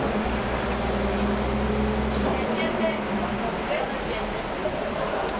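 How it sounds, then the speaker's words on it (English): Low engine rumble of a garbage truck idling nearby on a street in Madrid, a steady drone under a talking voice that eases off partway through. "There's a garbage truck right there."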